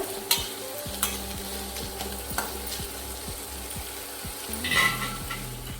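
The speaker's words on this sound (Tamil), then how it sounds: "ஆட் பண்ணி வெங்காயம் நல்லா பொன்னிறமாக ஆகிற வரைக்கும் வதக்கி விட்டுக்கோங்க" Onions and curry leaves sauté in a pan, a soft continuous sizzle with regular scraping strokes of a spoon against the metal.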